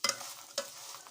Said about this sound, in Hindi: ये भून रही है, वाइट हो रही है